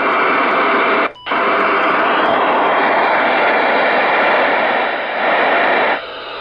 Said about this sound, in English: This is the squelch.